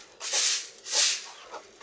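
Indigenous village chickens cluck on a rural Kenyan farm, giving two or three separate raspy calls at close range with short pauses between, and no speech.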